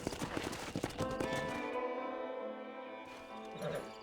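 Horse hooves clop in the Western video game Red Dead Redemption, with a quick burst of close hoofbeats that fades into sustained tones.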